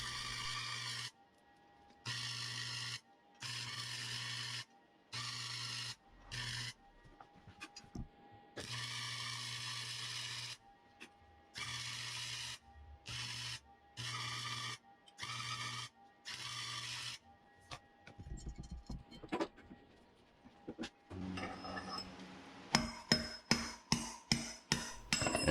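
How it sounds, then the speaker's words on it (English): Brass punch hammering a wheel bearing out of the rear wheel of a Harley-Davidson Street Glide, with bursts of grinding and clanking work near the mic, ending in a quick run of sharp, loud metallic strikes. "then punch it out with the brass punch"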